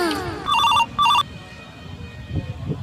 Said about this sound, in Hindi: उठाइए ना। फोन आवता है।